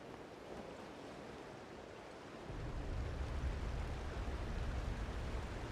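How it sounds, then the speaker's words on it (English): A waterfall in the video game Genshin Impact roars as a steady broadband rush that swells louder partway through and then holds a constant wash of falling water. "listen to that waterfall"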